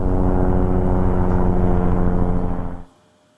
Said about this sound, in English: Another fossil-driven helicopter.